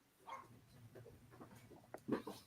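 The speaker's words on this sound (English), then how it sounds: "Can you hear my dog barking? He's outside the door of my studio and wants to come in" A dog barks from behind a closed studio door, muffled and fairly faint, with a few scattered woofs ending in a louder burst near the end.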